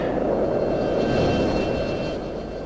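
An F-14 fighter jet in the flight combat game F22 Total Air War roars past in a steady, loud engine drone, with a thin whine riding over the dense rumble and no talk.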